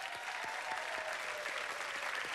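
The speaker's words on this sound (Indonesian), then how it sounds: "Apa kata kalau kita berikan tepukan gemuruh" Steady applause from an audience at a tribute concert for a singer, a dense wash of many hands clapping at even loudness throughout, with no voices over it.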